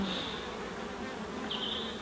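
Honeybees buzz steadily around an open hive in a UK apiary, a continuous close drone with a couple of higher-pitched whines from bees passing near, no voices.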